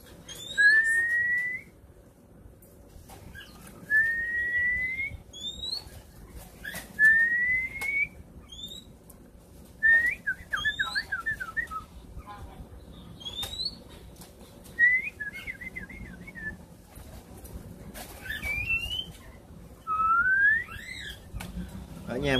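Near a caged wild-caught bird, songbirds call again and again with short rising whistled notes and quick chattering trills, clear and fairly close, in repeated bursts every couple of seconds over a quiet outdoor background.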